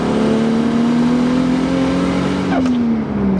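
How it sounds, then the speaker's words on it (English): A turbocharged 2002 Lexus IS300 with a 2JZ-GE-T engine revs loudly and close by with a sustained droning tone that eases down near the end. "Now it is a 2002 Lexus IS300."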